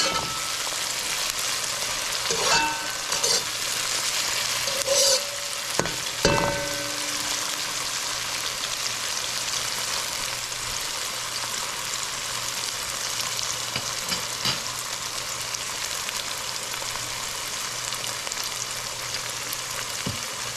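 Cassava and sweet potato frying in a pan, a constant bright hiss and crackle of hot oil running throughout, with a few utensil knocks and scrapes early on.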